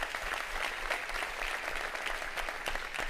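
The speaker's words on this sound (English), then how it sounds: "Let's give everybody a big round of applause" A crowd applauds steadily at the State of the County address for Harris County, a broad, even wash of clapping heard from a distance without a pause.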